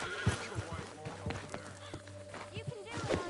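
A horse whinnies amid clopping hooves and a busy Red Dead Redemption 2 game soundscape, with voices talking underneath.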